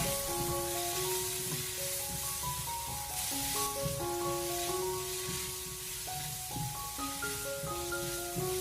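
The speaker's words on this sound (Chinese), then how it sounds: "将五花肉炒出油脂后，接着再把切好的姜蒜给它放进锅中，继续的开小火，慢慢的翻炒，把小料给它炒香。" Ginger and garlic sizzle gently in rendered pork belly fat in a wok over low heat, a steady soft hiss running beneath louder background music throughout.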